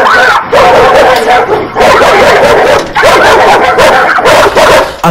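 Several dogs barking excitedly in a lively outdoor home setting, loud and close, in rapid overlapping bursts with yips and whimpers, broken by brief pauses.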